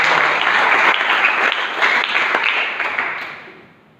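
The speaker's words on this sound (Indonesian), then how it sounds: "Tepuk tangan untuk Tuhan kita." A church congregation bursts into applause during a sermon, a thick, bright patter of many hands that stays steady for a few seconds and then fades away toward the end.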